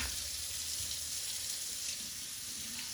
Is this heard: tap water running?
yes